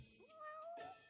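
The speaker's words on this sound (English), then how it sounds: "if you heard a cat meowing, you'd look for the cat too" A cat in the video game Judgment gives one clear, rising-then-level meow, soft and fairly close, heard alone.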